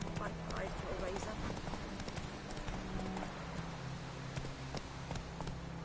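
Roach, a horse in The Witcher 3, gallops with quick, rhythmic clip-clop hoofbeats that run continuously over a low tonal game backdrop, with an occasional faint whinny.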